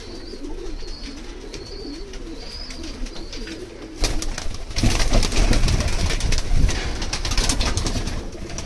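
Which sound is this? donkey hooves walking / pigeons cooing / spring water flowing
pigeons cooing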